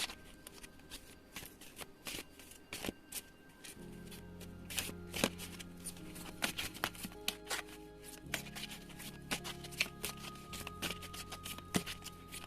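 Tarot and oracle deck cards being shuffled by hand for a reading, a steady run of crisp riffling and flicking strokes close up, with no talking.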